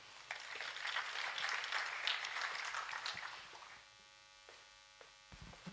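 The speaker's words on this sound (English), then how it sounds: "A bigger round of applause for him." Audience applause for a speaker at a climate adaptation and food security event, a crowd clapping steadily for about three seconds before fading, leaving a few scattered claps and faint room hum.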